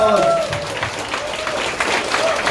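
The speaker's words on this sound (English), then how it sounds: "Give a round of applause." Audience applause breaks out in a crowded room, a steady wash of clapping with voices and cheers riding over it, fairly close and loud throughout the short stretch.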